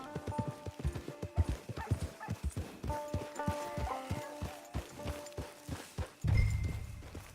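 Horse hooves clip-clopping in the video game Red Dead Redemption 2, a steady close walking rhythm of hoofbeats with a brief whinny, ending in a louder rustling thud.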